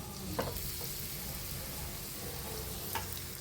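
A steady, close sizzle of breadfruit fritters frying in hot oil in a pan, with a couple of faint clinks from a utensil.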